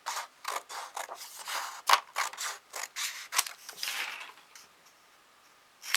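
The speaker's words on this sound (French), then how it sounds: "donc on coupe nos petits morceaux" Scissors snip small pieces of paper for a spring craft decoration, a quick series of close, crisp cuts at an uneven rhythm that slows and fades toward the end.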